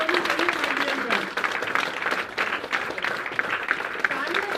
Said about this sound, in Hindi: एक बार जोरदार तालियां जोरदार होनी चाहिए माय डियर